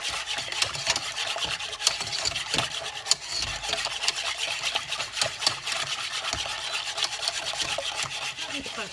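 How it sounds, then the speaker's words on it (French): A whisk beats chocolate custard cream for a chocolate flan pâtissier, a steady, close, rapid scraping and rubbing that keeps on without a break. "Et on fouette, on ne s'arrête pas jusqu'à temps qu'on obtienne notre crème au chocolat."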